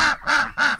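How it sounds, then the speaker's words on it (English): Loud, close ducks quacking in three evenly spaced, harsh calls, begging for food in a backyard enclosure with no talking over them. "if you get ducks, keep in mind, they're pretty loud"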